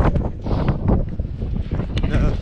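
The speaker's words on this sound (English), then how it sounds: "Never felt wind like." Strong wind at an abandoned quarry buffets the microphone in a loud, continuous low rumble with gusty surges, and a voice is partly audible through the roar.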